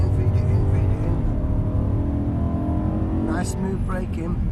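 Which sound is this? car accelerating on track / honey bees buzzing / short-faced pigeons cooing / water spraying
car accelerating on track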